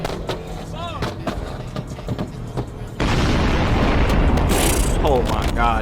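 Flame-tuned Dodge Demon 170 Charger with a very loud exhaust, popping and booming in sharp repeated bursts that grow into a dense, continuous roar, with excited voices nearby.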